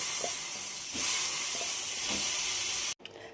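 Loud steady sizzling hiss from soaked kurdai (wheat crisp) crumbs sautéing in a hot pan, with occasional stirring scrapes, cutting off abruptly near the end.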